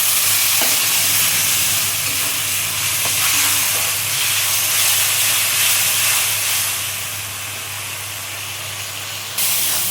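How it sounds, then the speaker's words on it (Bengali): Spice paste sizzles and hisses steadily in a pan for a Bengali fesa (anchovy) fish curry, with a loud continuous frying noise and a few faint stirring knocks, no voices. "মশলাটা কষাই।"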